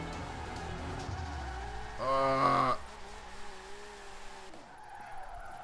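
Car engine in Forza Horizon 4 held high while drifting, with a brief loud tire screech near the middle amid steady revving and gear changes, no speech.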